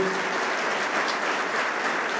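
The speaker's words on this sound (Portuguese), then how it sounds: "Você pode dar um forte aplauso a todo mundo que está online, do mundo todo." Steady applause from an audience at a mentoring event for pastors and leaders, a dense, even wash of clapping that continues without a break.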